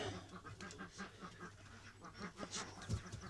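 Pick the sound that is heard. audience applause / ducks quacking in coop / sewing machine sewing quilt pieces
ducks quacking in coop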